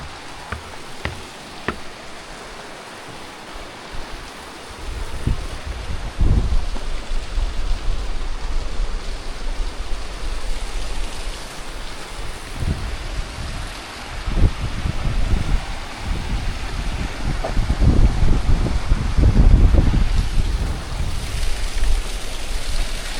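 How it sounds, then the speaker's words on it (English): A small waterfall along a hiking trail gives a steady broadband rush of falling water, with occasional low wind buffets and handling bumps swelling louder toward the end. "Cool little waterfall."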